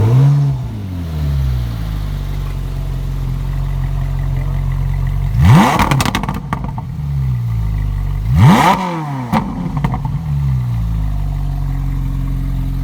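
A Ferrari 458 Italia fitted with a Capristo exhaust idles with a deep, steady drone, then two sharp revs swell and fall away, loud and close, before it settles back to idle.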